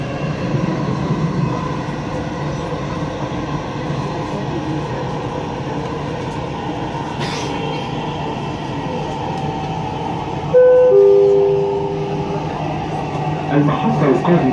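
A Dubai Metro train runs with a steady, close rolling rumble and hum heard from inside the car, with a brief tonal chime-like note and a slight swell near the end.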